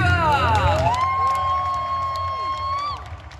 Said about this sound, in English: Let's give another round of applause for our 2023 European International Pokemon finalists!